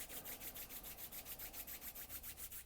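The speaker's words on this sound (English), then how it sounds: "rub the palms together" Palms rubbing briskly together during a qigong routine, a steady rhythmic swishing of about six strokes per second, close and quiet, with no talking.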